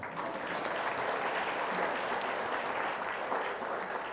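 Applause from an audience at a ceremony during RIDe Fest 2024, a steady wash of many hands clapping, moderately faint and unbroken throughout.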